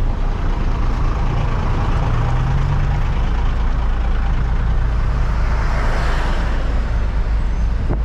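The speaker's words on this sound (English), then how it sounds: "Pretty quiet traffic here today," Steady road traffic along Roxas Boulevard in Manila, a constant loud wash of car and truck engines and tyre noise passing close by, with no talk.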